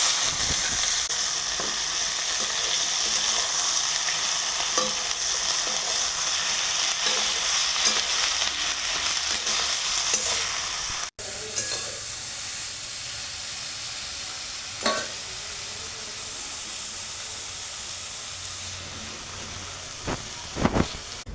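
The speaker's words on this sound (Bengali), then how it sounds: "এবার এই মাছ ভাজা তেলেই বেগুনটা দিয়ে ভেজে তুলে নেব।" Eggplant sizzles in oil left over from frying tangra fish, a loud, steady frying hiss for about eleven seconds that then drops to a quieter sizzle broken by a few clinks and stirs.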